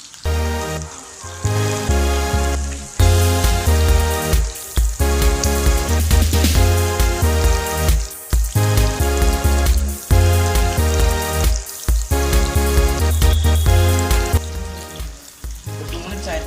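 Marinated chicken shawarma pieces fry in a pan with a loud, constant sizzle, punctuated by rhythmic bursts of crackling as the pieces are pressed or moved, with no talking.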